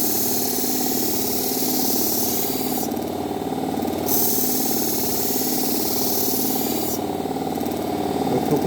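A cheap Temu backstand belt grinder runs steadily with a knife held against a 400-grit belt, a continuous whirring motor drone with grinding hiss that brightens and dips as the blade passes, close and loud throughout with no talk.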